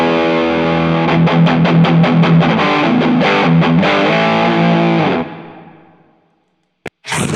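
Electric guitar run through a Funny Little Boxes 1991 overdrive pedal with both gain controls maxed, giving a loud, saturated lead tone with rhythmic chords for about five seconds, then a decay into near silence and a brief final strum.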